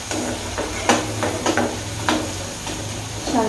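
Spoon scraping and stirring masala paneer capsicum sabji in a hot pan, a few irregular clinks and scrapes over a steady sizzle.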